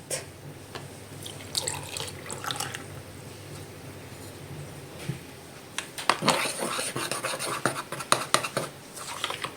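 Water being measured out for coffee, pouring and splashing into a container with intermittent gurgles and clinks, growing busier and louder toward the end.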